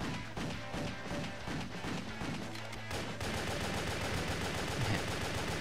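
Bigger-gun fire in the action game Wet: rapid repeated shots in a steady rhythm, growing denser and more continuous partway through, fairly quiet overall with no voices.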